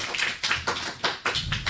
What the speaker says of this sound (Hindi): तो तालियों से इसका स्वागत करते हैं।